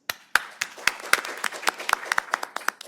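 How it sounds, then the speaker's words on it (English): Scattered applause from a conference audience at the Petrie-Flom Center annual conference, with a few individual handclaps landing at irregular intervals, then picking up into a thin, uneven patter. It stays fairly quiet throughout. "we can do individual applause"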